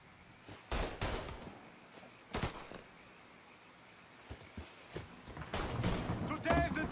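Gunfire in the video game Mafia 3, with sharp single shots and short bursts coming in uneven clusters over quiet stretches, getting heavier toward the end as a voice speaks between shots.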